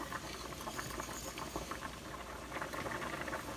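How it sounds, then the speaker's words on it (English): Homemade Olive Garden-style Alfredo sauce simmering in a pan, giving a dense, steady bubbling and popping patter that stays close and moderately quiet with no voices. "just let it simmer for a minute or two"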